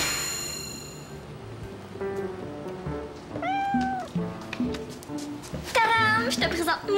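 A cat named Moustache gives several rising and falling meows, close and clear, mixed with bright metallic dings and clangs and some background voices.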